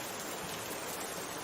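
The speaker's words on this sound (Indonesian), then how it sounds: "lagi hujan besar sekali pemirsa di luar" Heavy rain pours down outside during a thunderstorm, a dense, steady hiss of broadband noise with no breaks, loud and unbroken, and no voices over it.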